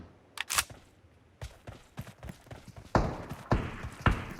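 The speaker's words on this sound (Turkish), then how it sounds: "Yine ayak seslerini alıyorum." Footsteps in the mobile battle-royale game PUBG Mobile: a run of sharp, irregular thuds and scuffs, some near and loud, others softer, spread across the stretch with no talking.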